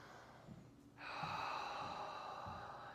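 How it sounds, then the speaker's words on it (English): A person breathing deeply into the low belly, a soft nasal intake followed by a long, steady airy exhale, close and quiet with faint low thumps beneath. "just a couple of deep breaths"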